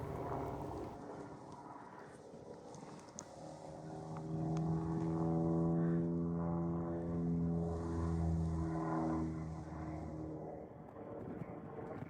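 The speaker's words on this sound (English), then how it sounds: "an aeronautical zone for practicing and competing in aerobatics, as they will now demonstrate." Aerobatic propeller aircraft performing overhead, a steady droning engine hum that swells louder and rises in pitch midway before easing back, heard alone at moderate distance.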